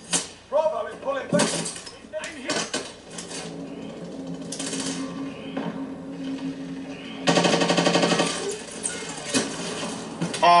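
Bursts of rapid automatic gunfire in Call of Duty Warzone during a payload event, loud and close, with a sustained stretch of machine-gun fire late on, while players talk over it.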